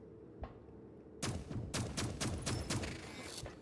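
An ice cannon fires in rapid repeated bursts in the video game Dolmen, a steady volley of sharp blasts after a single quieter shot, loud and close.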